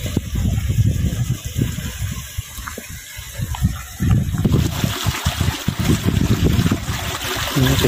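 Water gushing from a mountain spring in a green hiking valley, a continuous loud rushing flow heard close by, growing fuller and more turbulent halfway through.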